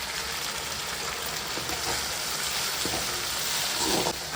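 Onions for a fish curry sauté with a continuous, moderately loud frying hiss and crackle, steady throughout with little variation.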